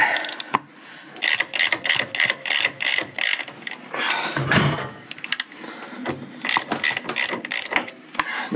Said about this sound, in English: now it's time to undo the relevant bolts and take the rear shock out